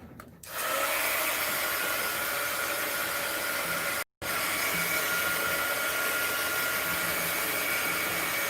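A hair dryer blows steadily on artwork in an art studio, a loud continuous whoosh that starts after a brief lead-in and cuts out for a split second midway before resuming.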